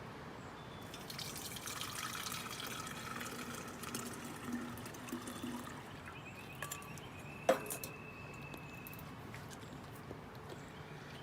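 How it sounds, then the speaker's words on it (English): Horchata poured through a strainer into a pitcher gives a faint, steady trickle and splash of liquid lasting throughout, with one sharp clink near the middle. "pour this through a strainer to get all the fiber out"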